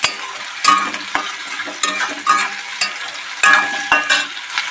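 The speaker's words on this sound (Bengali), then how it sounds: "তো দেখতে পাচ্ছেন আমার আলুটা ভালো করে ভেজে নিচ্ছি।" Potatoes fry in a pan for a Bengali jhal suji breakfast, a steady sizzle broken by repeated scraping strokes of a spatula stirring them, close and fairly loud, with no talking.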